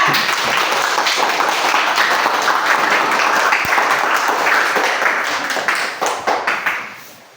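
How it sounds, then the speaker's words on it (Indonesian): Schoolchildren in a classroom clap for a student group, close, loud and steady, then breaking into a few separate claps that fade out at the end. "kita kasih tepuk tangan dulu untuk kelompok 2"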